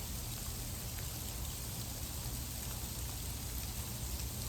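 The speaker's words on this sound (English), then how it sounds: "It's literally hailing now." Hail pellets fall during a snowy afternoon, a dense, even patter of small impacts forming a constant hiss at moderate-to-low volume, with no talking.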